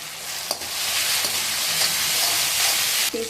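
Ginger garlic paste sizzles and fries steadily in a pan for an egg tomato curry, with a few utensil knocks and stirring scrapes against the pan, loud and close throughout, no talking.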